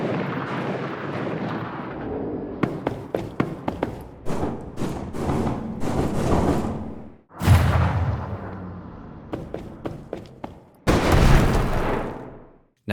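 Gunfire from a shooter video game built in Unreal Engine 4 with Wwise: rapid bursts of sharp shots with booming tails, punctuated by two heavier explosive blasts.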